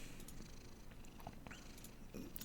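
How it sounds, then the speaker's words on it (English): A cat curled in a lap purrs as a low, faint, continuous rumble, close and steady, with no talking. "I got a cat in my lap."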